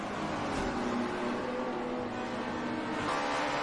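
Race cars on the final lap at Rio de Janeiro in Gran Turismo 4, a continuous dense engine roar with a steady drone throughout, loud and unbroken.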